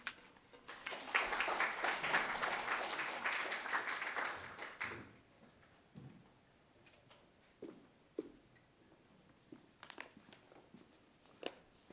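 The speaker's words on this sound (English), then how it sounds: "So let's give a round of applause." Audience applause fills the first five seconds, a dense steady clapping at moderate loudness, then breaks off into a quiet room with scattered faint taps and small noises.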